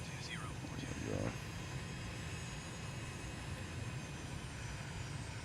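A light aircraft engine drones steadily while taxiing to general aviation parking in a flight simulator game, a continuous mid-level hum running throughout with a brief swell near the start.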